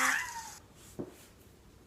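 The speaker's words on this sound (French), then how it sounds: "elle arrêtait pas de miauler" A domestic alley cat lets out one loud, close meow at the start, followed by quieter room sound and a faint bump.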